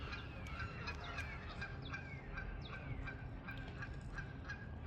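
Geese honking among a flock around a cemetery in Kentucky, a steady scatter of overlapping calls at moderate distance over constant outdoor background noise, with no voices.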